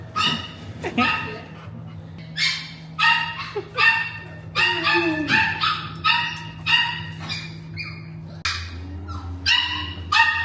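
A golden retriever puppy at an indoor dog cafe gives a run of loud, close, high yips and barks in quick repeated bursts, with whimpers between, over a low steady hum.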